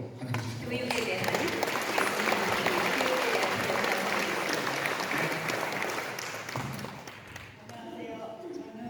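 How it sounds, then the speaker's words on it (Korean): Sustained audience applause fills a hall in welcome of a professor, a dense, steady wash of clapping from many hands that thins and fades toward the end. "크게 박수로 환영해 주십시오"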